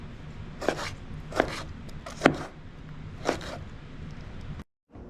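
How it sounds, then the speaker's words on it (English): A knife chops tomatoes on a board for salsa, four separate close cuts at an uneven pace, quiet, then a brief moment of silence at the end. "Now with the tomatoes, you don't have to cut them so small like the way I did with the onions"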